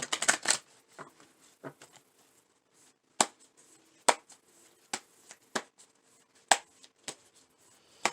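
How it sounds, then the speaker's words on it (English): Tarot cards are shuffled and tapped in a series of sharp, irregular riffles and snaps, close up, separated by short quiet gaps. "So let's shuffle again."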